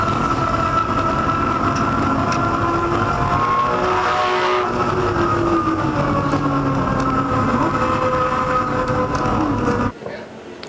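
Ford production race car from a Southern Rural Ford dealers team, lapping across the top of the mountain at Bathurst during a 24-hour race: a loud, steady engine roar holding a sustained tone before cutting away abruptly near the end.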